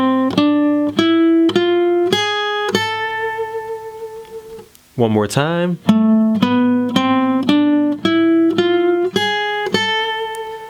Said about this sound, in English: this lick is coming from the A harmonic minor. It's a scale that sounds like this.